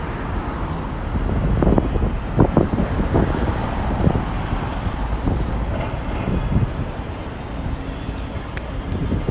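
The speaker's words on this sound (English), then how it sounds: "It's kind of windy, but it's not bad." Steady wind buffeting a microphone outdoors at night on the streets of Manhattan, New York City, a broad low rumble with gusty bursts throughout, fairly loud and continuous.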